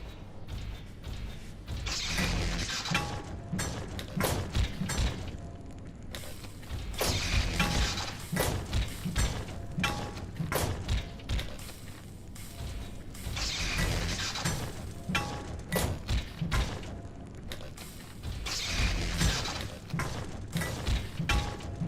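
A thermal mallet in Abiotic Factor hits things again and again, dense clanking and mechanical thuds in rhythmic bursts that swell and ease every few seconds, with no voices.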